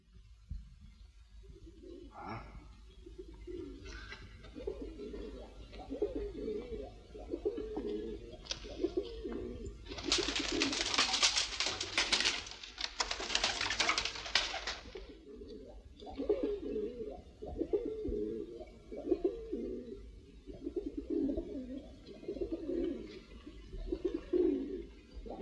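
Doves cooing in a 1950s fairy-tale film soundtrack, a steady run of soft, rhythmic low coos repeating throughout, broken midway by a burst of brighter, noisy rustling or flapping.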